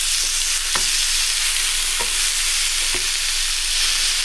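Salmon fries in a pan with a little oil, giving a steady, loud, even sizzle with a few faint clicks of a utensil and no voices.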